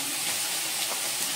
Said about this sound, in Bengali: এতে একটু কালো জিরে ফোড়ন দিয়ে দিলাম